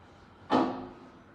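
A glass StarLift/SJEC machine-room-less elevator gives a single solid clunk, a sharp thud that rings briefly and fades over about half a second in a quiet space.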